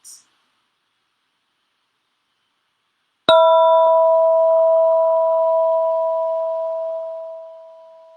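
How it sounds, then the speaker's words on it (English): A single mindfulness bell is struck once after a stretch of silence, giving a clear, bright metallic ring that holds a steady tone and slowly fades over several seconds, heard alone and close. "if your attention is on the sound of the bell, that is mindfulness"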